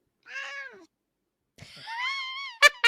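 A house cat gives two meows, a short drawn-out call followed after a pause by a longer rising meow, close and clear, ending with two sharp bursts of sound.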